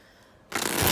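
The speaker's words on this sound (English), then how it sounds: "I'm just gonna shuffle it again" A tarot card deck is shuffled in a quick, crisp riffle that starts abruptly halfway through, close and fairly loud after a quiet moment.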